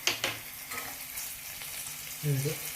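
Curry leaves frying in oil over a low flame give a soft, continuous sizzle, with a brief stirring scrape at the start and a short louder crackle near the end.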